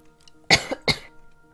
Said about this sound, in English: I had a cough.